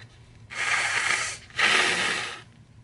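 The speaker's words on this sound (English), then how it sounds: "I apologize for blowing my nose on camera" A person blows their nose twice in a row, each time a loud, close, breathy honk lasting about a second, with a brief pause between the two.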